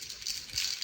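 A clear coat spray can being shaken hard to mix the paint, giving a steady close rattle that swells and fades over a second, with no voices.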